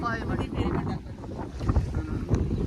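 A ferry boat crossing the water at Dabhol in Konkan, Ratnagiri, heard as a steady low engine rumble mixed with strong wind buffeting the microphone, with some speech underneath.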